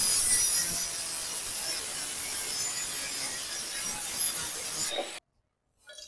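Hand sawing through a steel bend pipe for a Rajdoot motorcycle silencer: a steady, close, rasping back-and-forth scrape runs for about five seconds, then stops abruptly into near silence.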